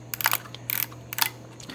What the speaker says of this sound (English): When you take a photo, the shutter activates.